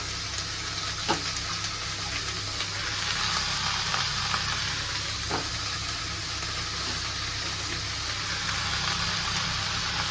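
Greens sizzle and fry in a pan with garlic and onion, a steady close hiss with a few brief clinks of stirring and no talking.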